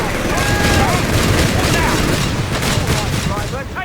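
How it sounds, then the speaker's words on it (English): Airburst artillery shells going off in Company of Heroes 3, a dense loud rumble of overlapping booms and crackling blasts, with battle noise and voices layered over it. "Airburst shells will decimate enemy infantry concentrations."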